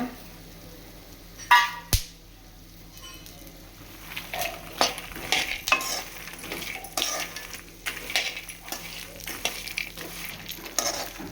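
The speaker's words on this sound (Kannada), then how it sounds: "ಮಖಾನ ಸ್ವಲ್ಪ ಚೆನ್ನಾಗಿ ಫ್ರೈ ಮಾಡ್ಕೋಬೇಕು" Makhana (fox nuts) frying in a pan and being stirred, with light sizzle and scattered scraping and clinking of a spoon against the pan, a couple of sharp knocks early on, no talk.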